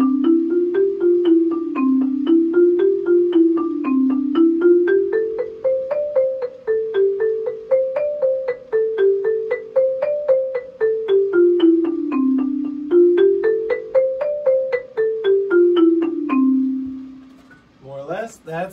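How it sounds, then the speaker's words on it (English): Mallet percussion plays a green scale, the 5-9 note scale, as a steady stream of quick struck notes climbing to the fifth degree and back again in repeating waves, clear and close for about seventeen seconds before it stops. "The mallet part sounds like this if you're not familiar with the green scale."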